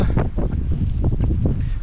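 Strong wind buffets the microphone in the open Patagonian countryside, a continuous loud low roar with gusting swells and rumbling bursts throughout, no voices.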